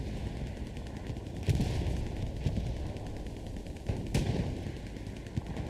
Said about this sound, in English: First shot comes out from the Sherman.